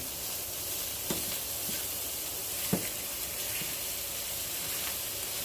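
Food crisping in a tiny frying pan makes a steady, close, hissing sizzle throughout, broken by a couple of faint scraping taps, with no talk.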